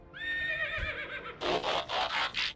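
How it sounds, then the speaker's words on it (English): A horse in the game Dune: Awakening gives a clear, wavering whinny, followed by several loud, breathy snorts in quick succession, close and alone. "My horse that sounds like this."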